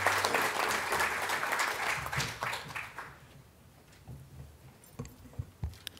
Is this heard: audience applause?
yes